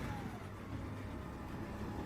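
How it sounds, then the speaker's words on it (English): A Mack LR garbage truck running on compressed natural gas, its tanks mounted at the rear, idles with a low, steady engine rumble that sounds muffled and faint. "It's a CNG truck and it has the CNG on the rear."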